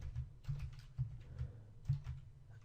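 Soft, close taps on a computer keyboard at an uneven pace, a handful of keystrokes spread over a few seconds while a code comment is entered, with no talking.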